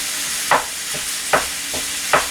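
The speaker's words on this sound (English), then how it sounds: "I want to let this ground beef cook down a little first before I throw the chorizo in" Ground beef browning in a pan for chili, broken up with a utensil: three loud, evenly spaced scraping strokes over a continuous close sizzle.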